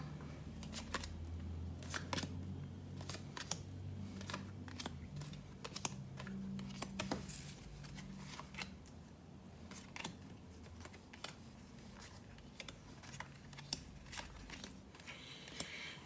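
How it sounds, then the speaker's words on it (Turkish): Tarot cards being laid out and turned over on a table make soft, scattered taps, flicks and light snaps close by, steady through the whole stretch, with no speech. "Hemen açıyorum kartlarımı"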